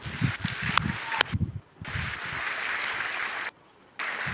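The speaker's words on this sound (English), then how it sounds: "Yeah, you can clap." Conference audience applause during a Microsoft Build 2023 keynote: a dense, steady wash of many hands clapping that drops out abruptly twice for brief near-silent gaps before resuming.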